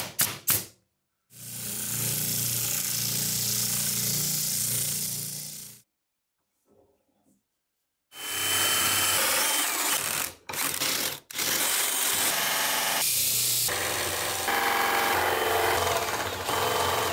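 A power drill bores through scrap plywood while cutting an inlet hole in a shop vac cyclone ring, with a long steady grinding whir, a gap of near silence, then a rougher stretch of drilling with brief stops, close and loud.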